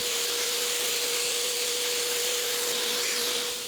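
A foam block sander fitted with a vacuum dust collection attachment runs with a steady, loud airy hiss and a thin constant whine, close and uninterrupted.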